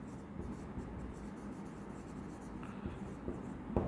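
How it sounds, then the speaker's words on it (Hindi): An accounting equation being written by hand in a classroom lesson, heard as quiet, soft scratching strokes in short bursts that grow slightly louder near the end, with faint room noise and no clear speech. "अब लिखते हैं यहाँ पे न्यू इक्वेशन।"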